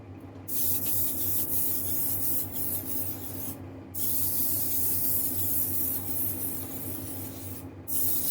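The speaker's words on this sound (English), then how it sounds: "I'm going to spray on kind of like a light coat" Spray paint hisses in short bursts with brief pauses between passes, steady and close by, laying on a light coat.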